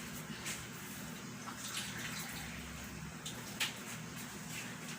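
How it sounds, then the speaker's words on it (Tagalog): Water is poured from a cup into a cooking pan of adobo with oyster sauce, a faint, soft, continuous trickle and splash heard close by with a few small drips. "At lagyan natin siya ng kunting tubig."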